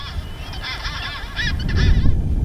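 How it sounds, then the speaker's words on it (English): Chinstrap penguins calling in Antarctica, a harsh honking chorus of several birds that builds louder toward the end against windy outdoor rumble. "Living in these inhospitable conditions are these chinstrap penguins."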